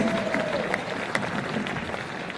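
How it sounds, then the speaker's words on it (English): A thin, scattered round of applause rises from an audience at a speaking event for a volunteer returning to her seat, with loose individual claps and a low crowd murmur underneath. "Round of applause for Laura."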